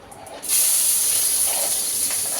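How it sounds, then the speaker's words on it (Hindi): Onion tipped into hot oil in a home kitchen pan bursts into a loud, close sizzle that jumps up within the first half second and then holds as a steady hiss, with no one speaking. "अब हम इसके अंदर अपना प्याज ऐड ऑन कर देंगे।"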